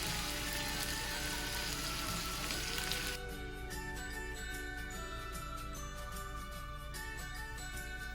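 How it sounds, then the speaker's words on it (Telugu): Sliced okra frying in oil in a home kitchen gives a dense, bright crackling sizzle that runs without a break. After about three seconds it drops slightly and turns thinner, staying close and steady. "తర్వాత నూనె వేసుకొని దీనిలో బెండకాయలు వేయించుకొని నార్మల్గా ఫ్రై చేసేసుకోవడమే అనమాట."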